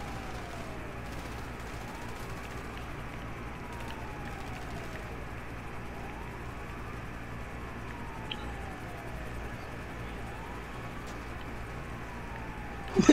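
A wailing ambulance siren in the game GTA, sweeping up and down in repeated slow cycles at moderate distance over a low rumbling background, with a sharp burst near the end.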